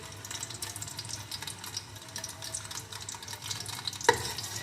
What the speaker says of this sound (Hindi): अब हम इसमें अपने अंडे फ्राई करेंगे।